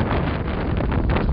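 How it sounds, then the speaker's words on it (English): Strong wind buffets the microphone at the summit shelter of Ben Nevis in March snow, a steady loud roar with gusty rumble throughout and no voices. "Wow, it's windy up here."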